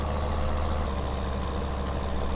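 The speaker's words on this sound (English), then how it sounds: "the Kubota needs to show us how much horsepower it's got by pulling these bales up the hill" A Kubota tractor engine in the Farming Simulator 17 video game drones low and steady while pulling bales uphill. The engine hum stays continuous and even for the whole short stretch.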